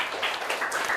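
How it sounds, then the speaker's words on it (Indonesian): A classroom audience claps briefly, a short burst of scattered applause at moderate loudness. "tepuk tangan"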